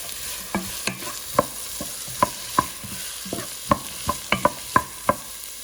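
Thinly sliced onions with chopped curry leaves fry in a pan under a soft steady sizzle, punctuated by a dozen or so sharp, irregular scrapes of a spoon stirring against the metal, close and clear.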